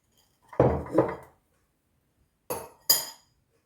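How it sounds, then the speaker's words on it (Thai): Eggs beaten with sugar and vanilla sugar in a bowl for a homemade cake base: four distinct clinking knocks of a utensil against the bowl, in two close pairs separated by a short pause, fairly close and clear with no talking. "ตีไข่ แล้วก็ ใส่น้ำตาล กับน้ำตาลวานิลา"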